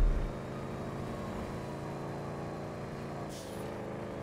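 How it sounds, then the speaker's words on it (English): A turbocharged car engine in GTA 5 drives steadily at mid revs, a continuous loud drone with a short high turbo whistle near the end. "I like the sound of this engine, like turbo."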